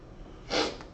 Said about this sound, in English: Sniffles.